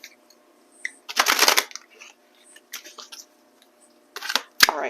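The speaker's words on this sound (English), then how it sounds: "I'll be pulling from my Celestial Cosmos tarot deck." Celestial Cosmos tarot cards being shuffled in short riffling bursts, quiet and close, separated by gaps of near silence.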